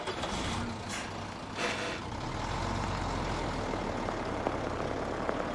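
A truck driving in a game, with a steady low engine rumble and road noise throughout, a few brief higher hisses near the start, and no talking.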